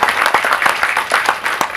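An audience claps and cheers at a film audio and trailer launch event, a short burst of dense, loud applause with rapid hand claps filling the hall.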